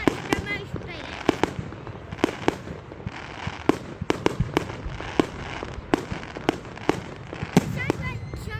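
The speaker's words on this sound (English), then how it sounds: "It sounds like someone's just playing a video on their phone to make it sound like fireworks." Fireworks on bonfire night in Elgin, sharp cracks and bangs going off repeatedly at varying distances over a continuous crackling, fizzing background.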